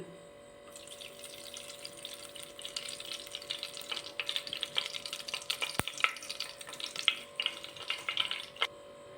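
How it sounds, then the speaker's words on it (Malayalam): Hot oil left from frying chicken is poured into a heated pressure cooker and crackles and sizzles steadily, building after a quiet start, with a few sharp pops and clinks of a utensil. "കുക്കർ ചൂടായി, അതിലോട്ട് നമ്മൾ ചിക്കൻ വറുത്തെടുത്ത ഓയിൽ ഒഴിച്ച് കൊടുക്കുകയാണ്"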